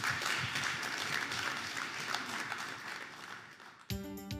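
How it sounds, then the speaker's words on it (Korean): Dense applause from an audience at a science lecture fills the space, fading slightly before a short musical tone sounds at the end. "큰 박수로 김병문 교수님을 환영해 주시기 바랍니다."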